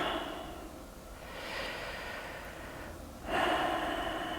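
Slow, deep breaths during a calm yoga session in standing mountain pose, with a soft inhale swelling around the middle and a fuller, louder exhale near the end, no talking over them.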